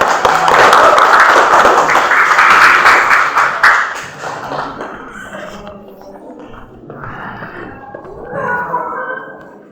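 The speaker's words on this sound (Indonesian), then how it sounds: "Tepuk tangan." A classroom of students claps together in a burst of applause for a classmate's answer in an informatics lesson, loud for about four seconds, then fading into softer scattered sounds and voices.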